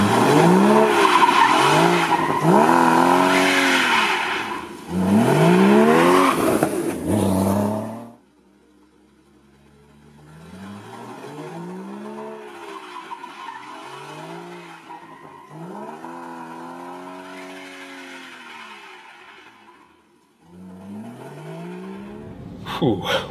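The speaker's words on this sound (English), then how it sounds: "a little bit of wheel spin is allowed with that one" A 2016 Porsche Cayman GTS's tires squeal and screech in loud bursts with wheel spin as its engine revs hard, then the skidding continues more softly in long sweeping wails.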